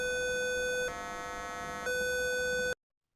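A simulated buzzer on an ESP32 board sounds a steady electronic tone that steps to a different pitch roughly each second, three sustained segments in a row before stopping abruptly into silence.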